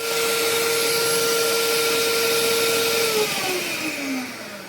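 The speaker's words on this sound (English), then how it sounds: "After 2 minutes of continuous whisking at high speed, this is how it is." Electric whisk running at high speed in cake batter for a black forest cake, a steady loud whir with a high motor whine that holds, then its pitch slides and the noise drops slightly near the end. No voices.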